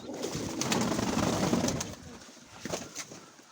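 A Mykolaiv breed pigeon coos close by, soft throaty murmurs repeating over a faint background hiss.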